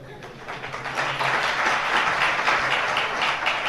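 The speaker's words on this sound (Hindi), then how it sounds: "तुम ताली बजाओ, मैं पीठ ठोक रहा हूं" Sustained audience applause at a religious discourse gathering, a steady wash of many hands clapping that swells within the first second and holds at full level throughout.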